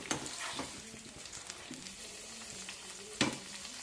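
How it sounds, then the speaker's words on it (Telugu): White eggplants cook in hot oil in a pan for a chutney, giving a quiet, steady sizzle with a few sharper clatters of stirring near the start and end. "వీటిని నూనెలో మగ్గ పెట్టేస్తాము"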